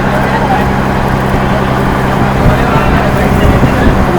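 A boat ride through Mumbai harbour brings a constant loud rumble of engine and rushing water, with voices talking over it.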